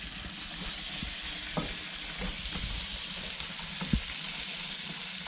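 Primroses and buds frying in butter in a pan, a steady close sizzle with soft stirring scrapes and a few light clicks of utensils, no talking.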